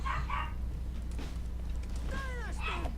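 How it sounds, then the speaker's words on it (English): A dog barks in short, sharp bursts near the start and end with a whimpering whine in between, over a constant low hum in the background. "And the dog's going off on one."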